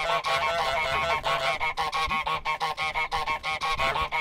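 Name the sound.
goose honking in Untitled Goose Game, video game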